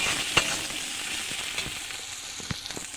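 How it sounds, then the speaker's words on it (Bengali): Chopped ginger sizzling in hot oil in a pan while being stirred, a steady frying hiss with a few sharp spatula clicks and scrapes scattered through it. "এবার আমি এগুলো ভালো করে মিশিয়ে নেব।"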